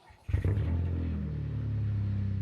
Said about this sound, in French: Je vais vous faire entendre un petit démarrage à froid.